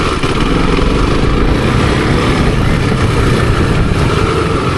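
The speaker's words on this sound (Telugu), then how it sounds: "ఏదో డిఫరెంట్ సౌండ్ వస్తుంది కదా దీంట్లో" A modified KTM RC 390 sport motorcycle engine runs loud and close, a steady, raspy idle drone with no talking.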